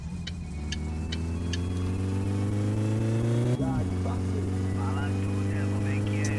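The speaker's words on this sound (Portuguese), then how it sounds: "eu tenho que dar uma olhadinha nesse escape desse carro, velho. Tá fazendo barulho demais." A loud, steady car engine drone with a raspy, overly noisy exhaust rumble in the video game My Summer Car runs throughout, with a brief shift partway through; faint ticking sits above it.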